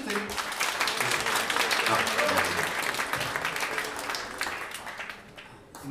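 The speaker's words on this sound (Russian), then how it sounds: "Аплодисменты." Studio audience applauding at a televised festive evening gala, a dense steady wash of clapping that holds for several seconds and then thins out toward the end.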